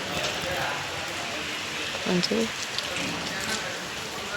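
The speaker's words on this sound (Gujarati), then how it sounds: "આ તો વરસાદ ચાલુન ચાલુ છે" Steady all-day rain falls on a home courtyard, a continuous soft hiss of drops close around, with a voice speaking briefly over it.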